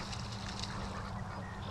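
Several farm ducks and geese that play in the mud up by a small water dam rather than going to the lake. Their honking and quacking is continuous, dense and moderately close, with a low rumble underneath and no talk.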